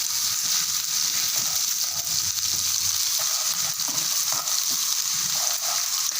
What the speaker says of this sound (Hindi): अब हम इसमें 1 चम्मच लहसुन का पेस्ट डाल देंगे और इसको हिला देंगे। अब इसको हम थोड़ी सी देर के लिए भूनेंगे।